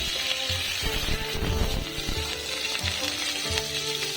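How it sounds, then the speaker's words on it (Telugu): Mustard seeds, cumin, black pepper, curry leaves and green chillies sizzle steadily in hot oil for Pongal, a continuous close frying crackle with scattered pops and no talking. "నూనె వేసుకున్నాను. ఇప్పుడు ఫస్ట్ ఆవాలు జీలకర్ర వేసాను"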